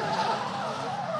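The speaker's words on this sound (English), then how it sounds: "Oh, big entry there by that R32 four-door." An R32 four-door drift car skids on entry at a grassroots drift event in New Zealand, a loud continuous tire squeal with engine roar, heard briefly and alone.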